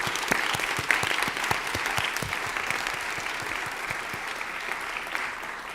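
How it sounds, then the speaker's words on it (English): A town hall audience applauds in a steady wash of clapping, with a few louder individual claps standing out near the start before the sound settles into an even, moderately quiet patter. "Let's give Evanston, Illinois, a big round of applause."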